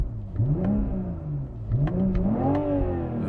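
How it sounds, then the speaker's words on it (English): The 3.0-litre inline-six of a 2021 BMW M440i xDrive revs in two smooth rising sweeps, pulling up in pitch, settling, then climbing again. The sound is close and clear with no talking. "Very, very sweet sounding inline 6. You gotta love a BMW straight 6."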